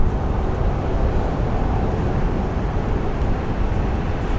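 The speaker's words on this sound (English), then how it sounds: "that Fokker 7 that just departed going to the Greenwich" Fokker 70 airliner departing Brisbane airport, a steady broadband jet roar that stays loud and even throughout with no talk.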